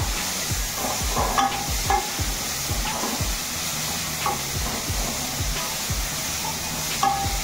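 Kalara (bitter gourd) curry is stirred and fried in oil in a pan, with a steady loud sizzle under repeated scraping strokes of a spoon against the pan throughout.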